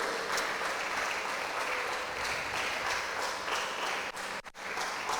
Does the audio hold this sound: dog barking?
no